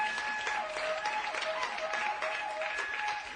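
A church congregation claps together in a steady, dense round of applause, loud and continuous throughout with no talking over it.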